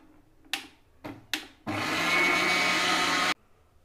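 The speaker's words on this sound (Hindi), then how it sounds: "इसे थोड़ा इस तरीके से चला करके एक बार और ग्राइंड कर लेते हैं" An electric grinder whirs loudly and steadily for under two seconds as it grinds sugar into icing sugar powder, preceded by a few short knocks and brief pulses, then cuts off abruptly.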